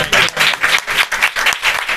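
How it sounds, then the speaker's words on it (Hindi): A church congregation applauds loudly during a sermon, a dense, sustained burst of many hands clapping close by, with no talking over it. "आइए उसी खुदावन के लिए जोरदार तालियां बजाएंगे"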